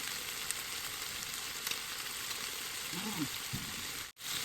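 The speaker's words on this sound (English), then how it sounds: "while browning the rest of the other side, you can put some chopped garlic" Chicken wings for adobo browning in a pan as chopped garlic is added, a steady faint sizzle throughout with a soft voice-like murmur briefly under it near the end.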